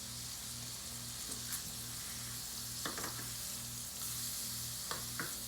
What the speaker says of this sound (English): So we are gonna just brown these on the other side.